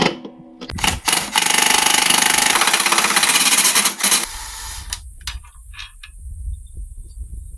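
Tight bolts being removed from the sliding battery tray of a lawn tractor, a loud continuous mechanical rattling of a power driver for about four seconds, then quieter intermittent clicks and clatter.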